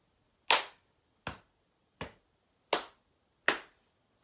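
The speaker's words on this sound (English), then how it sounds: "Clap, hit, hit, thigh, thigh, stamp, stamp." Flamenco percussion practice: five sharp, evenly spaced hand claps and slaps, crisp and close, each ringing briefly before silence, with no talking.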